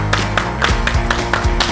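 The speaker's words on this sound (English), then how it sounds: "Double time claps." Quick double-time hand claps in a music lesson, a sharp steady run of about seven claps close by over a faint background hum.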